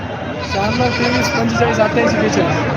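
Local breed goats bleat in short wavering calls amid a busy livestock market crowd, with people talking over the animals throughout.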